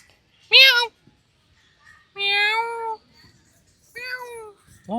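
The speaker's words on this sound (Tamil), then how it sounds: "காட்டு பூனை" Jungle cat at Guindy National Park giving three separate loud meows, each a drawn-out wavering call with quiet gaps between them.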